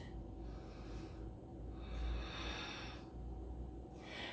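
Slow, steady breaths drawn in and out during a vinyasa yoga pose with hips lifted and gaze up, each breath a soft airy rush, close and unhurried.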